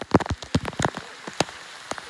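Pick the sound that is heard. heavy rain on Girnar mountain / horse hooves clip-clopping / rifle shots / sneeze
heavy rain on Girnar mountain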